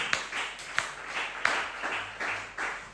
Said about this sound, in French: Applaudissez pour le Seigneur Jésus-Christ